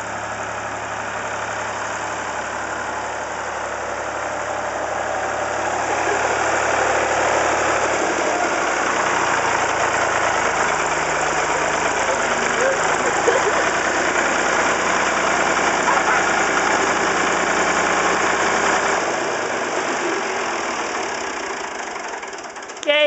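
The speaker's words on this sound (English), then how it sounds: "Tell us about your little chug chug can't go wrong tractor." A 1965 Ford 2000 tractor engine runs steadily throughout, a continuous mid-pitched chugging drone that holds close and fairly loud for the whole stretch, with faint background noise and no clear talk over it.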